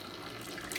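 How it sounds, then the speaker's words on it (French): Cold tap water rushes into a K8 water fountain filter-ionizer as its valve opens, a brief steady gush that brightens slightly at the end, fairly soft and without voices. "vous voyez instantanément l'eau est passée dans l'appareil"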